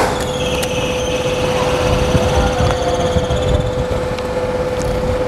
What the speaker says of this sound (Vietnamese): Bây giờ chúng ta sẽ cấp điện cho động cơ.